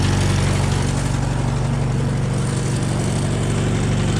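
A 1958 Allis Chalmers D14 tractor engine runs at a steady, loud, low idle throughout, with an even chugging pulse and no pauses.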